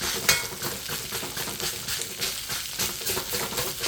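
Rice for Thai fried rice with pineapple, basil and cashew nuts fries in a pan on a portable butane stove, giving a steady, close sizzle with light stirring scrapes and a small clink near the start.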